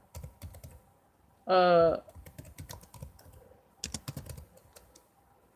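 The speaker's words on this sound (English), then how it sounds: "yeah, I'm typing terribly." Someone types on a computer keyboard: loud, close, uneven clicking bursts with pauses, a brief loud tonal sound in the middle, and a voice murmuring briefly.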